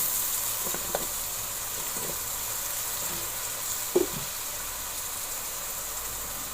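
Potatoes go into a spiced chickpea curry for cholay aloo, sizzling in the pot as a steady hiss, with a few soft stirring knocks against the pot.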